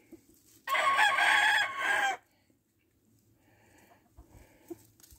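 A half Asil, half Hatch game fowl rooster crows once, loud and close, for about a second and a half, then fades into quiet with faint background noise.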